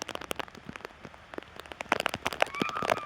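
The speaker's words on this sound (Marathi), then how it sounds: "तर मित्रांनो बघू शकता पाऊस किती आलाय." Rain falls steadily on a cricket ground, scattered drops pattering and tapping sharply over a constant hiss, growing busier toward the end.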